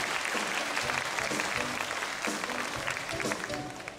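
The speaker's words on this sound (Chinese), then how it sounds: "掌声再给大熊一次" An audience claps at a sea lion show in an ocean park, with a steady, moderately loud burst of applause spread across the crowd and a host's voice partly over it.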